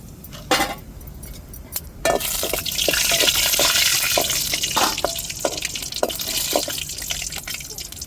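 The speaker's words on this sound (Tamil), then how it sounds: "இப்போ எண்ணெய் ஊற்றிட்டோம் கடாயில் இப்போ தாளிப்புக்கு நம்ம கருகப்பட்ட வகை எல்லாம் சேர்த்துருக்கோம்" Curry leaves and other tempering ingredients spit and crackle in hot oil in a kadai, with a steady sizzle broken by sharp pops and a few metal clinks.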